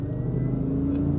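A supercharged Cadillac Escalade engine runs at part throttle with a close, steady rumble and a thin, high supercharger whine held over it.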